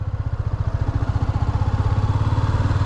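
Motorcycle engine running close by with a strong pulsing throb, revving steadily through the gears in a rhythmic putter that builds slightly in pace and loudness.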